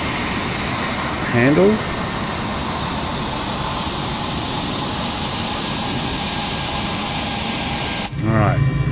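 A-10C Thunderbolt II jet taxiing slowly in Microsoft Flight Simulator, a loud steady engine whine and roar throughout, with someone briefly speaking over it near the start and again at the end.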